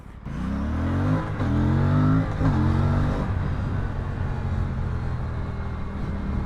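A 2025 Aprilia Tuono 457 motorcycle engine under way, loud and close, its revs climbing and falling in a few surges and then holding steady beneath constant wind rush.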